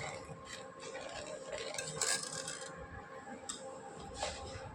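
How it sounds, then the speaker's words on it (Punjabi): Tamarind chutney being stirred continuously in a good-quality steel kadai, soft scraping and light clinking strokes repeating at a steady pace, fairly quiet and close, with no talking. "ਇਹਨੂੰ ਲਗਾਤਾਰ ਹਿਲਾਉਂਦੇ ਰਹਿਣਾ ਬਿਲਕੁਲ ਰੁਕਣ ਨਹੀਂ ਦੇਣਾ ਇਹ ਸਟੀਲ ਦੀ ਕੜਾਹੀ"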